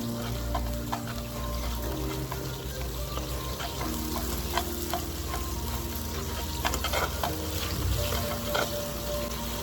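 Seasoned chicken sizzles and crackles in caramelized brown sugar for a Jamaican brown stew, a steady close frying hiss with scattered pops and stirring clatter and no talking.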